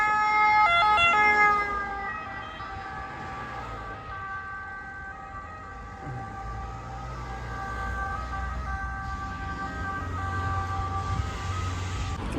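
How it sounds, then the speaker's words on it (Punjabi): An ambulance siren wails steadily, loud at first then holding as vehicle traffic rumbles underneath, the tone passing close by in a street in Italy. "ਲੋ ਐਂਬੂਲੈਂਸ ਆ ਗਈ"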